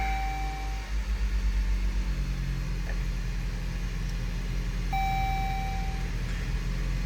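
A car's engine idles steadily after starting and warms up with its hood shut, a low close rumble with a faint pulsing throb, broken by brief electronic beeps near the start and again midway.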